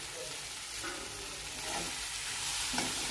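Masala okra fries in a pan as crushed peanuts go in, a faint, steady hiss of sizzling oil with soft stirring underneath and no voices.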